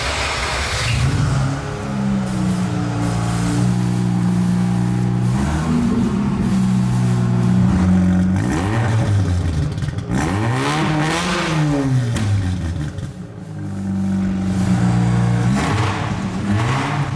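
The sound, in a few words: Quadra V-Tech car engine running after long downtime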